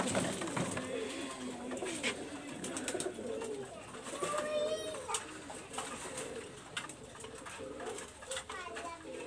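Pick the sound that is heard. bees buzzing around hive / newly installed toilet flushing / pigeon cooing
pigeon cooing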